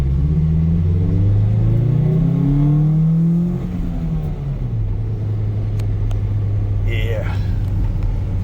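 A Ford Ranger pickup with a five-speed manual drives along, its engine rumbling loudly up through the gears and bogging slightly, with a person talking over the steady drone.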